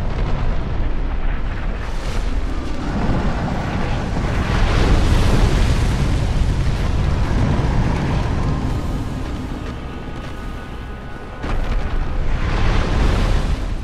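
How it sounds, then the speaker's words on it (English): Fire explosions in the video game Dark Souls, set in Lost Izalith: loud, rumbling booms and roaring bursts that swell and fade in waves, continuous and heavy throughout. "Oh yeah, you do fire explosions now."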